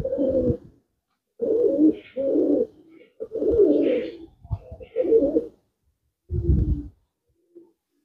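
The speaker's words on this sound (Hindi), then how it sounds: "ये ललसरे कबूतर" Lalsare pigeons in a loft give repeated deep, throaty coos in bursts separated by short pauses, close and clear, with faint chirps from other birds between them.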